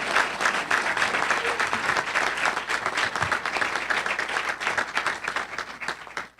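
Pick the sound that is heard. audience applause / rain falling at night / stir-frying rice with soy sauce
audience applause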